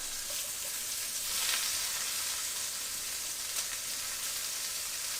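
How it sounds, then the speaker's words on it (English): Onions sizzle steadily and loudly in a pot alongside brisket, a continuous bright frying hiss lasting throughout with no talking. "This is still sizzling very loud."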